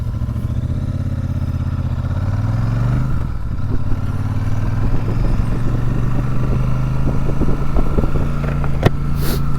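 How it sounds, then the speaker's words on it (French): Royal Enfield Super Meteor 650 (2024) with its stock exhaust pulling away, the engine note rising as it rides off and settling into a steady, close, loud rumble with wind buffeting and light clatter, no talking. "je vous fais écouter le son de cette petite Royal Enfield"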